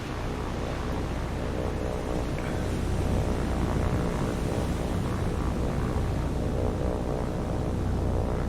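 Enemy aircraft drone overhead in the naval war game War on the Sea, a steady low propeller hum and rushing noise with no voices.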